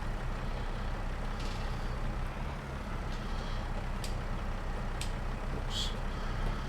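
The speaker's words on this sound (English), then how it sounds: "So we will reverse the tractor up to the service pallet." A tractor reversing up to a service pallet in a farming video game, heard as a steady, close low engine rumble with a few faint high ticks scattered over it.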